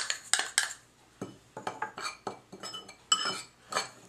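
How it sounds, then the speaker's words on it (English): Flax seeds, Parmesan and baking powder are stirred together in a bowl, giving quiet, irregular clinks and scrapes of a utensil against the dish. "So let's go ahead and mix the dry ingredients together."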